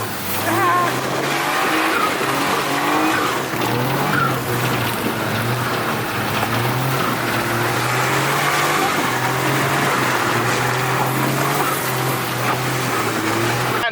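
A front-wheel-drive van is slid sideways on snow with the handbrake, its engine droning steadily and loudly throughout with tire and skid noise, while voices talk over it.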